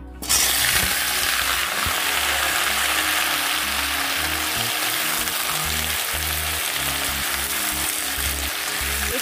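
Teasel gourd and potato pieces fry in hot oil in a slightly scorched wok, a loud, steady, dense sizzle running unbroken throughout, with occasional low clacks of the pan beneath it.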